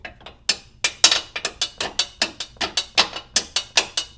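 Steel suspension bolt being tapped through aligned holes on an Isuzu Rodeo Sport's ISC suspension, a rapid series of about fifteen sharp, close metallic taps in a steady rhythm.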